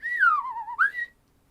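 A person whistles an imitation of the Clangers, a single clear tone that slides downward and then swoops back up before stopping, close and alone, followed by near silence.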